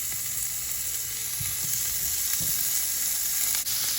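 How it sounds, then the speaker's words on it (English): Sausage sizzles steadily in a hot skillet, a constant bright crackling hiss with a few soft low bumps as pieces are moved. "Our skillet is nice and hot. You wanna hear that sizzle."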